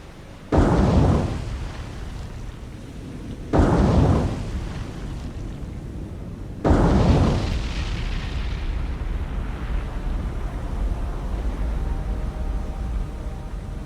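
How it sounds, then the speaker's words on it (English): Three heavy booms from torpedo hits on a ship in a naval video game, the last a loud magazine explosion followed by a long rumbling roar and crackle; no voices. "A very, very nice strike there. We actually got a magazine explosion on the"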